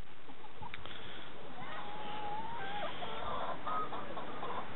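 Chickens clucking around electric poultry netting on a farm, several soft, scattered clucks and calls at moderate distance over a faint background hiss.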